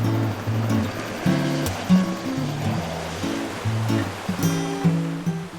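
A flood-swollen creek in New Zealand's Urewera National Park rushes in a continuous loud roar of churning water, with a strong low tonal hum and intermittent bursts layered over the steady torrent.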